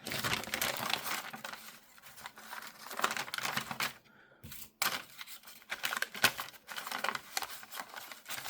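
Scissors snip and crinkle through Amazon packing paper at close range, with irregular crunching cuts and rustling and a brief pause midway.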